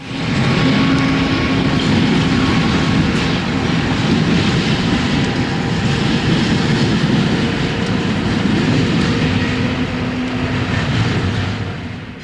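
A BNSF freight train rolls steadily across the diamond crossing in Enid, a loud, continuous rumble of wheels and cars that holds at close range for the whole stretch, with no voices.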